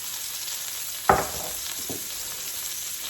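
Chicken breasts sizzle steadily in a pan of olive oil, a constant near hiss broken by one sharp knock of a utensil and a softer clatter shortly after.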